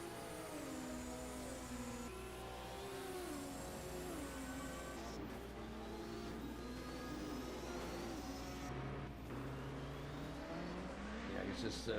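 Racing cars at the 1978 DRM 200-mile race at Nürnberg, their engines whining and shifting pitch as they accelerate and lift, while a commentator talks over the continuous engine noise.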